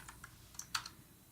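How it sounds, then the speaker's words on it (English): Clicky keystrokes on a mechanical computer keyboard, a handful of separate taps spread irregularly over a second and a half, close and fairly quiet in a still room with no talk. "The new keyboard since I was last here sounds tastier and mechanical now."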